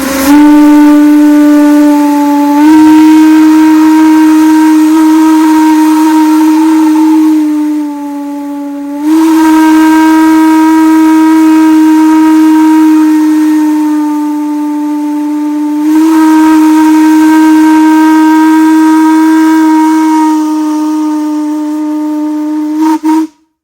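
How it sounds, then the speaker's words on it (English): A steam whistle at a sorghum mill in Muddy Pond, Tennessee blows loud and close in three long sustained blasts with brief breaks between them, a steady pitched tone with no voices. "We're going to get to hear the steam whistle blow."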